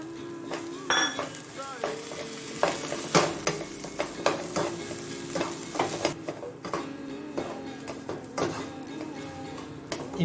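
Aloo masala with curry leaves and coriander is stir-fried in a pan, a spoon scraping and clinking against the metal in repeated strokes over a soft background sizzle.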